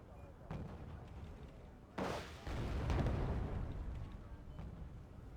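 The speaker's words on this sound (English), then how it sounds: "We've got quite a lot of smoke artillery from Firestarter." Smoke artillery fires in the real-time strategy game Wargame Red Dragon, with a sharp burst of launches and booms and a rumbling wash that lingers over faint background noise.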